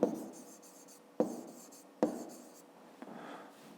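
A pen or pencil writes numbers on paper by hand, giving quiet, close scratchy strokes in four short bursts separated by brief pauses, with no talking.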